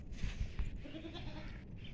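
A young female goat of a dairy breed bleats in short, faint calls, several brief cries spaced over a couple of seconds against soft background noise.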